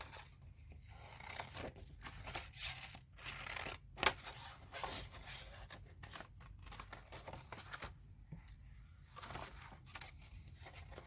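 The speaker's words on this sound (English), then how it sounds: "I'm cutting more shapes" Scissors snip out paper shapes for an art journal, a series of short, crisp close cuts in irregular bursts with brief pauses between them.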